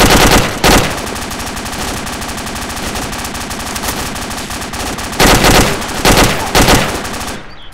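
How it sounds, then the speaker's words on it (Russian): Machine gun fire in ArmA 2 ACE, loud sustained rapid bursts with short pauses and a few heavier clusters, close and without talk. "У нас Доник одновременно стреляет и перезаряжает."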